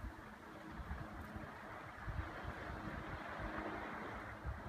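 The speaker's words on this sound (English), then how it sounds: "Listen to that water." Running water near Hope, Alaska makes a soft, continuous broadband rush, faint and steady, mixed with a low rumble that may be light wind, with no voices.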